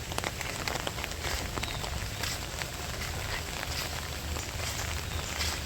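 Heavy rain pours down steadily onto surfaces, a dense, even hiss with scattered drop patter throughout and no voices.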